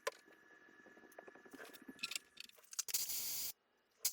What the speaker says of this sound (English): I'm dimpling the holes for the rivets that hold the nut plates to the backs of the flanges of the top rib and the counterbalance rib